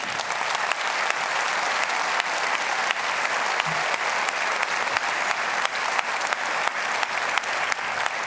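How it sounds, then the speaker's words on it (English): Audience in an auditorium in Stockholm applauding, a dense, steady wash of many hands clapping at even strength throughout, broad and sustained without speech over it. "if we could hear that applause around the world, it would be thunderous"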